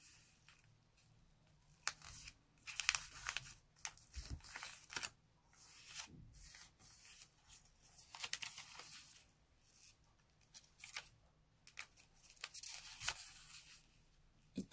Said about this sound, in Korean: 반으로 접어 표시선을 만들어요.